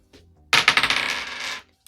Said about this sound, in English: And we'll roll 1 dice.